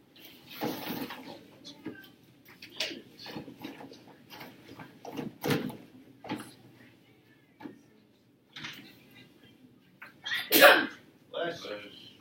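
In a classroom one person sneezes sharply near the end, standing out from scattered shuffling, clicks and students talking in the background.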